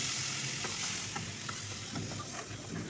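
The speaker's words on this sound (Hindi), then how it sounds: "इस असली घी वाले ऑयल के अंदर हम पिसे हुए पालक का तड़का लगा देंगे" Ground spinach sizzling in hot oil mixed with desi ghee as a tadka for Lahori beef hareesa: a steady, close, dense frying hiss with faint crackles and stirring clicks, no voices.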